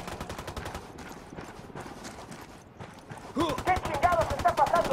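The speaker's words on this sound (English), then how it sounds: "I'm shooting these fuckers." Rapid game gunfire in the open-world shooter Ghost Recon Wildlands, repeated shots and bursts throughout with voices talking over the firefight in the second half.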